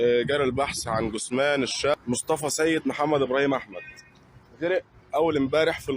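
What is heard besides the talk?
None of the usual background noises is heard.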